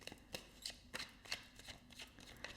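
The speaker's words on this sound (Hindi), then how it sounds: "Let me shuffle these cards first." Tarot cards are shuffled close to the microphone, a quick run of crisp riffling snaps and soft slaps in an uneven rhythm, about eight distinct bursts, with nothing else heard behind them.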